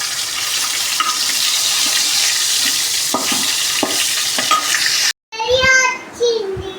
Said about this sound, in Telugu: ఇది వచ్చేసి మా చెల్లికి వేపుతున్నాను అనమాట